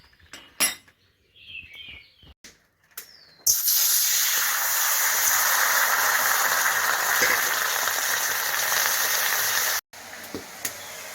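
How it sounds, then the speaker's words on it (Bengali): A sudden loud, steady hiss bursts out after some clinks of utensils as water is poured into a hot wok, lasting several seconds before cutting off abruptly. "ওই কড়াইয়ে জল দিয়ে দেবো কিছুটা।"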